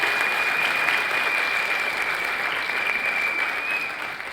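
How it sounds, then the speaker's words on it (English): Parents and guests at a school annual day celebration applaud in a continuous, even round of crowd clapping. A faint steady tone runs underneath, and the clapping eases slightly toward the end. "Can we give a huge round of applause again for Misha?"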